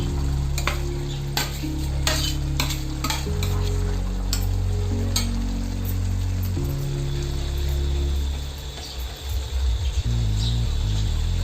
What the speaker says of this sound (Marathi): आता त्याच्यामध्ये आपलं हे भाजलेले वांग आहे ते टाकूया